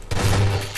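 A single heavy gunshot thumps in the video game Half-Life 2: Episode 2, a short, loud, close blast that fades within a second, with no talking.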